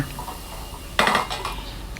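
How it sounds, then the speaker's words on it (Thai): A metal utensil clatters and scrapes against a pan while Chinese sausage rice with spring onions is stir-fried, a quiet stretch broken by a sharp burst of clanking and stirring noises near the middle. "ใส่ไปเล็กน้อยแล้วก็ผัดต่อค่ะ"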